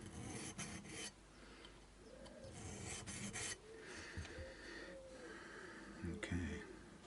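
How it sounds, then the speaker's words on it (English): Sandpaper rasps against the high frets of a Vintage V100 electric guitar during a re-fret, in short irregular scratchy strokes. The sound is quiet and close, with faint breathing and a low voice murmuring underneath. "it's easier to get up there with some sandpaper"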